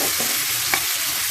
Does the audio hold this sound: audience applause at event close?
no